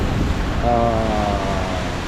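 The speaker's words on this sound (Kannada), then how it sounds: "ಆ ಕಲ್ಲಿಗೆ ತೆರೆಗಳು ಅಲೆಗಳು ಅದು ಹೊಡೆದು ಹೊಡೆದು ಹೊಡೆದು" Sea waves crash and wash steadily against coastal rocks near a capsized boat in Bhatkal, a loud, continuous surging roar with wind noise and no clear breaks.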